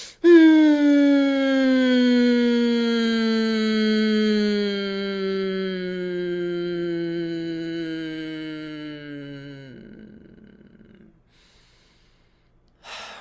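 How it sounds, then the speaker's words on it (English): A long, steady humming exhale through the nose during breath-work, a loud close tonal hum that slowly falls in pitch for about ten seconds before fading into breathy air. "And out with the humming sound"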